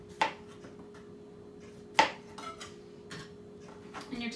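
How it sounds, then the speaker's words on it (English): A knife slices through half a cucumber on a cutting board, giving a few sharp, close knocks spaced about two seconds apart with lighter taps between, quiet otherwise and without speech. "So here we just have half a cucumber, and you're going to just slice it like you normally would into little slices."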